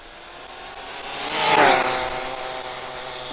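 Arrma Limitless RC car on 8S LiHV batteries at full throttle, a steady high-pitched motor whine that swells to a loud peak midway as it passes, then fades slightly, with a faint voice in the background.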